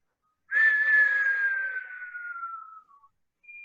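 A person breathes out in a long, steady whistle as part of a diaphragm relaxation breathing exercise; the single tone slowly drops in pitch and fades over about two and a half seconds, followed by silence and a faint brief tone.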